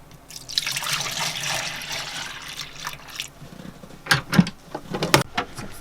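Liquid is poured from a small container over the engine of a Northern Lights 12kW generator set, a steady close trickling stream that tapers off into a few drips and light knocks.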